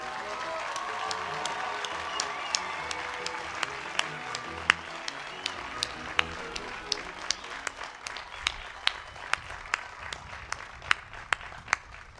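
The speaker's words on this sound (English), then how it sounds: "Please join me in a round of applause for all of the new graduates." Applause for new graduates at a college commencement ceremony, a broad crowd clapping steadily, with a rhythmic train of sharp, evenly spaced claps standing out clearly on top and growing more pronounced as it continues.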